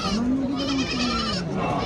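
A goat bleats in one long, wavering cry held for nearly two seconds, close and loud.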